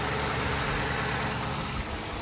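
A cold Iveco Daily van engine idles while warming up, a steady, close, low rumble with a constant hum and no talking.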